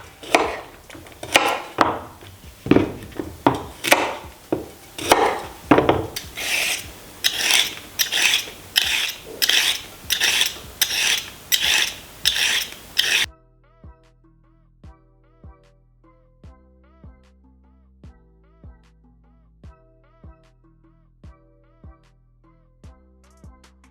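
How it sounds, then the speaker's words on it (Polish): Vegetables are peeled for a Polish tomato soup, with quick rhythmic scraping strokes close up for about half the time. Quieter, regular ticking tones follow, and no one speaks. "wszystkie warzywka obrać i umieścić"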